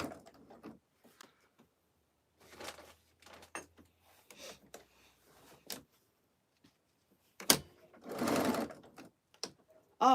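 Sewing machine stitching while tacking down quilt fabric, heard in several short bursts of stitching with pauses between. The longest run comes near the end, and a few quiet thumps and handling noises fall in between.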